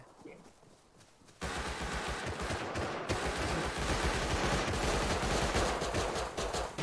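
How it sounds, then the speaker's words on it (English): Gunfire in the video game Rust: a short quiet stretch, then dense, continuous rapid automatic fire with rattling bursts that stays loud and busy to the end. "I hear a lot of shooting."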